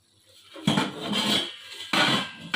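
A metal lid comes off a pot of potatoes and yardlong beans cooking for a chorchori, with two sharp clanks of metal against the rim between softer scraping and shuffling sounds.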